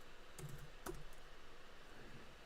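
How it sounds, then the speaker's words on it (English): Keys on a computer keyboard clack in a short burst of typing, a few sharp close clicks over a quiet room hiss, with no talking. "I'm using my keyboard purely off of touch."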